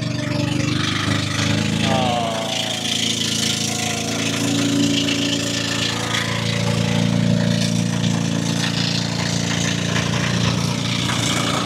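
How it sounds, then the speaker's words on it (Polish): A steady boat engine drones loudly and continuously, a constant mechanical hum with no talking over it. "bo jest głośno, silnik tam pracuje"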